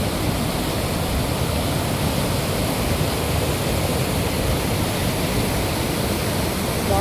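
A waterfall roars with rushing water, a loud, dense and continuous torrent with no breaks or voices.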